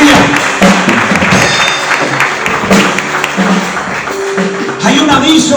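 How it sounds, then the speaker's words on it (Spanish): A church congregation applauds during a worship service, a dense, steady wash of clapping mixed with crowd voices and a low musical backing, loud and continuous throughout. "dale tu mejor aplauso al Señor en esta hora."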